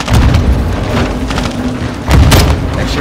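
A grenade explosion in the war video game Call of Duty Modern Warfare 2 lands as a loud low boom amid ongoing battle noise, with a second heavy blast rumbling in near the end.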